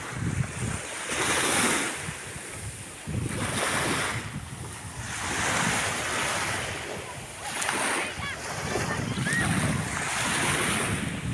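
Waves roll onto a warm Italian seashore in slow, swelling surges about every three seconds, steady and fairly loud, with wind buffeting the microphone throughout and no voices.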